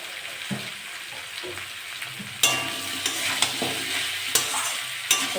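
Vegetables, small crab and prawns sautéing in a pan with green chili, chili powder and salt: a steady close sizzle with scraping stirs, sharp clatters of the utensil cutting through at intervals.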